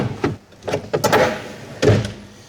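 Wooden vanity drawers being slid back into a wall-hung bathroom vanity cabinet, a few close knocks and sliding thuds, the last one the heaviest, with no talking.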